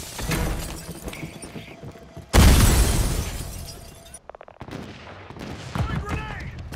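A frag grenade explodes in a sudden loud blast amid scattered rifle fire in the Call of Duty MW3 beta, with shots and effects continuing after the boom fades.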